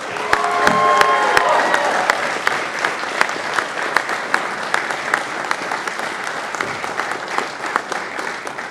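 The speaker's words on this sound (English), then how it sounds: "Please give them another round of applause." Audience applause fills a commissioning ceremony for new US Army second lieutenants, a steady wash of clapping from a large crowd that starts loud and slowly thins while a few isolated sharper claps stand out.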